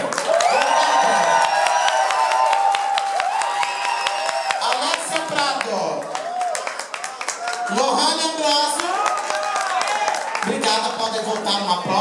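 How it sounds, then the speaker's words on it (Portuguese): A crowd in a dance club claps, cheers and whoops during a drag show game segment, loud and close, with excited voices and shouting layered over the applause throughout. "Aplausos para aqui."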